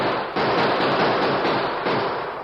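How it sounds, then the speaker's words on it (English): Gunfire sound effect in an old Western radio drama, a dense continuous volley of shots with no gaps, loud and close, heard alone without voices. "The sudden gunfire caught the Indians by surprise."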